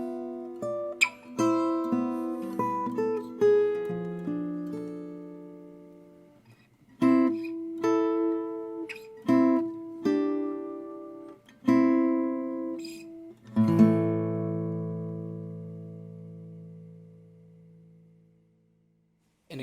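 Solo acoustic guitar composition played alone, plucked melodic phrases and chords ringing out with pauses between, closing on a sustained chord that fades into silence.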